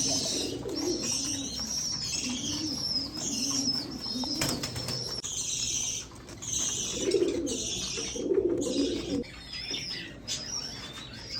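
A racing pigeon kept as a breeder, with an injured leg, coos in repeated low rolling phrases close by, with brief wing flutters and chirps from other birds in the background.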